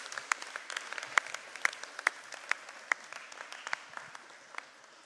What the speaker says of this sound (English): please help give a huge round of applause to the parents